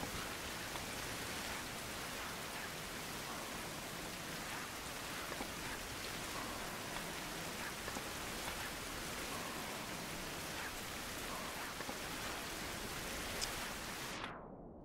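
Steady rain in a video game, a dense even hiss of falling drops on surfaces running unbroken throughout and cutting off abruptly at the very end.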